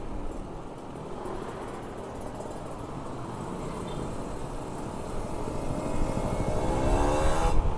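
The Red Black motorcycle, recently serviced with many parts replaced, pulls away along a road, its engine drone and wind rush building steadily louder toward the end, with no voice.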